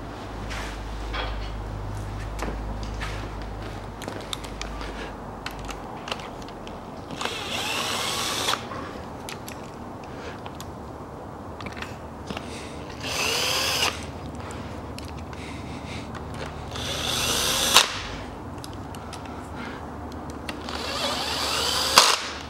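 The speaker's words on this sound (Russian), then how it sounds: "Наживляю болты." A power tool drives bolts into the 1.0-litre engine of a Toyota Passo during repair work, running in several loud whirring bursts separated by quieter clinks and handling noise in a workshop.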